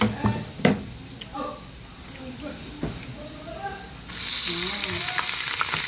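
Shrimp hitting melted butter in a pan for buttered shrimp, a sudden loud, steady sizzle that starts partway through after softer kitchen clatter and a voice talking.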